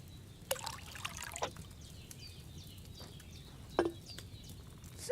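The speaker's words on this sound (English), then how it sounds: "So, what did you pour in there? Wine, of course." Wine poured into a cauldron in a medieval simulator video game gives faint, brief trickling splashes that come in short bursts over a quiet background.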